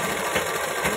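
A sewing machine runs fast, stitching a ghagra skirt, a steady close mechanical whir with no talk.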